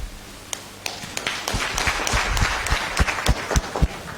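Audience at an Islamic institute fundraising event applauds steadily, a dense wash of clapping with sharper individual claps standing out, moderately loud and building slightly toward the end.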